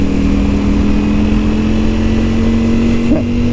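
A Ducati Panigale V4S motorcycle cruises along at a steady engine drone, loud and constant under rushing wind, with no speech.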